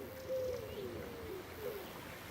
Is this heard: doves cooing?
yes